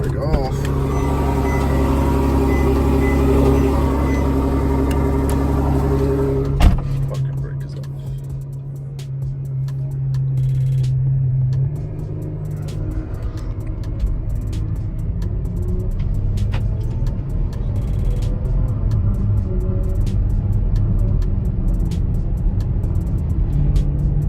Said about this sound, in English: All right, so far setting off in the FF.